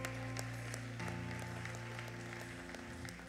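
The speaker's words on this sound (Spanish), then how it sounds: "Dele un aplauso a la hermana." Applause rises for a woman at a Spanish-language church service, soft and scattered clapping set against sustained, droning music in the background.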